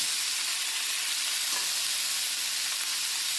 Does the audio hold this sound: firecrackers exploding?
no